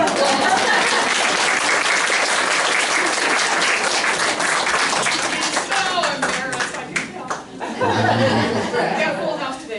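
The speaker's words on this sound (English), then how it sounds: "let's give an applause" Audience applause fills a packed hall before a talk by Dr. Dean Shrock, steady dense clapping with chatter and light laughter mixed in, tapering briefly before a final swell.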